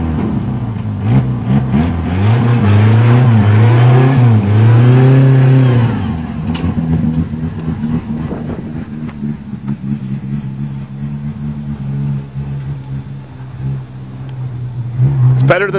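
A 1961 Ford Anglia engine cold-starting on a farm, cranking into life and then revving up and down loudly up close before settling into a rough, steady idle.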